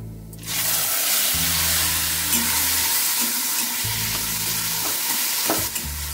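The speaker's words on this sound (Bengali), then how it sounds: "এইবার শাকটা ঢেলে দেবো" Red amaranth greens tipped into a pan of hot oil with fried ginger, mustard seeds and dry chillies set off a loud, sudden burst of sizzling that continues as a dense, steady hiss with occasional stirring scrapes.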